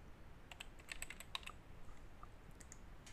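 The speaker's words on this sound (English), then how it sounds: "And now we're going to type in a name." A computer keyboard clicks through a short burst of quick, light keystrokes as a name is typed, then trails off into sparse taps. The sound is faint and close, with no talking.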